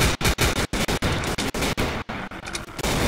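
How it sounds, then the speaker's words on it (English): Rapid, loud bursts of automatic gunfire rattle through a zombie shooter video game, close-up and continuous with short gaps, no talking over it. "Oh, I'm shooting my own teammate."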